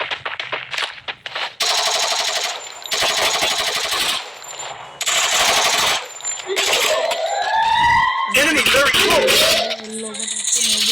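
A VSS rifle fires in a mobile shooter video game, with rapid bursts of gunfire broken by short pauses, followed by rising and falling siren-like tones, all loud and close.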